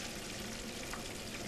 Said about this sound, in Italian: intanto continua a fare friggere questo